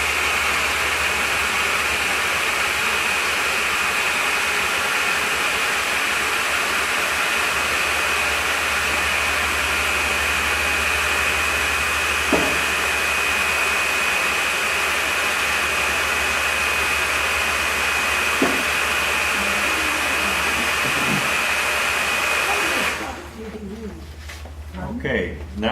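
Hair dryer drying watercolor paint, a steady, loud blowing whine that holds for about twenty-three seconds and then cuts off, with a few faint clicks and taps along the way.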